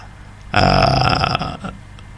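A short, gritty uplifting-trance synthesizer bass note made in FL Studio growls loudly for about a second, then drops back to a quieter buzzing tail.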